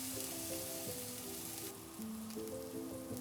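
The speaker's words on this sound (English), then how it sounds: "Olive oil. And put our tuna steak." Tuna steak sizzling in hot olive oil in a pan, a steady broadband hiss of frying that carries on throughout, with faint tonal music underneath.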